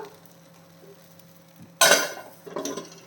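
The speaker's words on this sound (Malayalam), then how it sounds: "ഇനി ലോ ഫ്ലെയിമിലാക്കിയിട്ട് മൂടി വെച്ച് കൊടുക്കാം." A lid clanks down onto an appam pan set on low flame, a sudden metallic clatter followed by a second softer clink and faint sizzling, close and alone.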